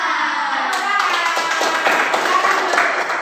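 A class claps the rhythmic tepuk semangat spirit clap together, with a steady stream of dense hand claps and voices chanting along.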